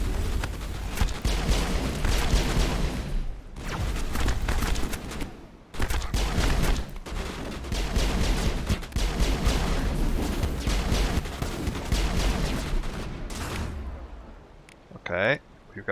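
Gunfire in Mass Effect: dense bursts of rapid shots in long volleys broken by short gaps, loud and near, with talk in the mix.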